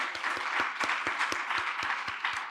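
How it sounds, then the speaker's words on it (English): Audience at a conference panel session on biodiversity finance claps for the panelists, a moderate, evenly spread patter of hands with distinct individual claps standing out. "A round of applause for our panelists."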